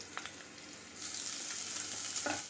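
Cumin seeds, finely chopped green chili and grated ginger fry in a pan. A soft, close sizzle swells into a fuller, steady hiss partway through, then stops abruptly, with no voices.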